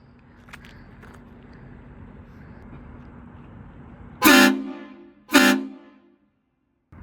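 Two loud, short blasts from a Horn Blasters vehicle horn, close by. A low idling hum runs underneath, and the horn blasts are followed by silence.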